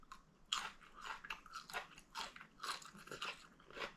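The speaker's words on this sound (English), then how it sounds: "Oh, crunchy." Close-up crunchy chewing of stir-fried green beans in sauce: a series of crisp bites and munches in an irregular rhythm, loud and near, with no talking.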